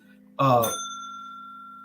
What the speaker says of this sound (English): He rang the bell telling me I need to shut up